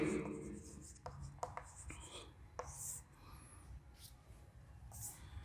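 A pen scratching on paper during a seventh-grade fraction multiplication lesson, quiet strokes and taps scattered through the clip with faint breathy murmuring in the background.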